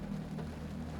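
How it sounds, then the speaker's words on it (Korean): Heavy rain pouring down in a parking lot and drumming on a parked car, a dense, steady patter with no voices. "이렇게 쏟아지는 빗방울과 같이"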